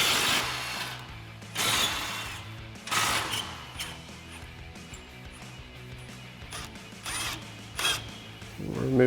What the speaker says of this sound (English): So we've got our 21 mil socket on our impact, and we'll get those off.